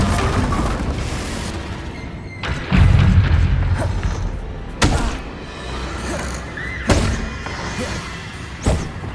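Confringo fire-blast spell explosions in the Hogwarts Legacy video game, with several sharp booming impacts spaced a couple of seconds apart over a busy combat background.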